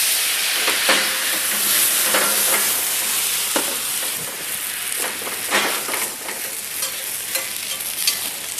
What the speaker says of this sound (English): now that the pheasant is nicely sealed on both sides and pretty well cooked, I'll flame them in Calvados